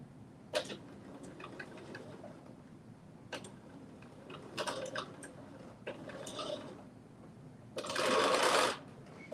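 A sewing machine fitted with a zipper foot runs in short, clicking bursts of stitching, close and moderately loud, ending with a longer continuous whirring run, with no talking.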